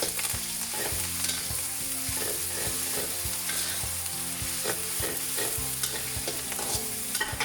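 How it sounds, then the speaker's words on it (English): Ginger garlic paste stirred into a frying pot for a whole chicken one-pot dish: a spoon scrapes and clatters in a steady rhythm over a continuous close sizzle, with no voices. "ginger garlic paste, and I'm gonna mix it."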